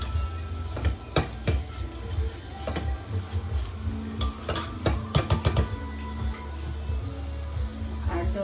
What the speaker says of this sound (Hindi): I am going to add this in, saute for like 2 more minutes